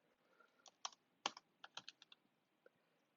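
Quick, uneven keystrokes on a computer keyboard, about a dozen close, crisp taps in a short burst while a command is typed, with no voices.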